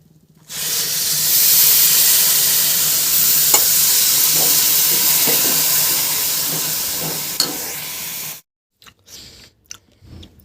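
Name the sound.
stirring mixture with milk and ghee in a pan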